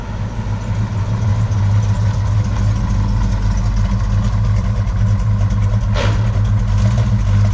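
A 1970 Plymouth Road Runner with a six-barrel engine idles steadily nearby, a deep, even rumble that continues unbroken without speech.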